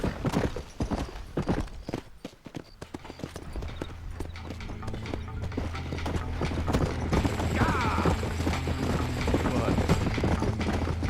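Horse hooves clop steadily in the video game Red Dead Redemption, a brisk rhythmic beat that grows into a fuller rumble of riding, with a voice talking over it.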